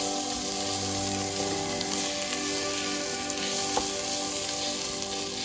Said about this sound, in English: We have to make a nice tadaka, and in that I have added the onion.